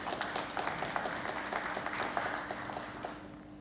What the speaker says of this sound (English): I think that's all deserving of a round of applause